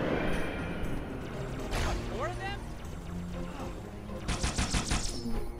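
Sniper fire rings out in Halo 2 co-op campaign, with sharp gunshots and a rapid burst of gunfire near the end, heard under and between people talking.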